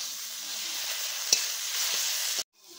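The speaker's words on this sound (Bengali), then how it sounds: "নারকেলের পেস্ট দিয়ে আবারও 2 মিনিট ভালোভাবে ভেজে নিব।" Coconut paste fries in a pan, giving a steady close hiss of sizzling oil with one sharp clink of a stirring spoon partway through. The sound cuts off abruptly just before the end.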